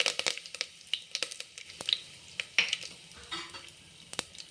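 Mustard seeds crackle and pop in hot oil as curry leaves fry for a tomato kuzhambu, giving close, sharp spluttering bursts and sizzling that come and go irregularly, with faint stirring clinks of a utensil in the pan.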